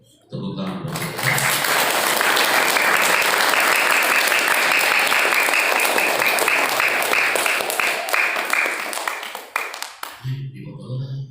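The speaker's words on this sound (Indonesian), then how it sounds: "Tepuk tangan buat kita." Loud, sustained audience applause at a motivational event at an Islamic boarding school, a dense roar of clapping lasting around nine seconds with brief speech just before and after.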